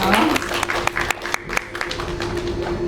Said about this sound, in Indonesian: Kita berikan tepuk tangan untuk Dr. Jill.